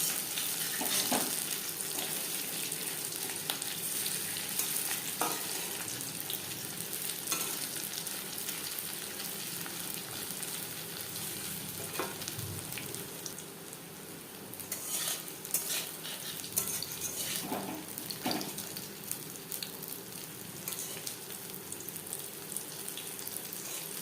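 Fish-fat fritters (pakora) fry in hot oil in a wok with a steady, close sizzle and crackle throughout, broken by occasional clinks and scrapes of a utensil; no voices are heard.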